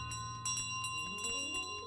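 A bell carried by a goose in a video game jingles in quick repeated metallic rings over a sustained low tone, close and clear without voices.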